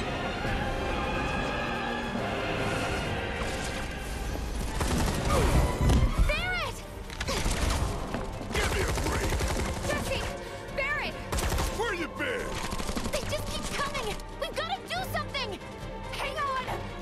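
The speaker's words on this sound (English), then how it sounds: "I see gunfire." Rapid bursts of gunfire in the video game Final Fantasy VII Remake crackle and crash in dense clusters, mixed with whooshing effects and a voice talking over it.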